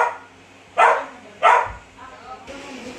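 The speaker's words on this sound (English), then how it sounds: "The dog is barking." A dog barks twice, close and loud, short sharp yaps a moment apart, followed by quieter whimpering sounds.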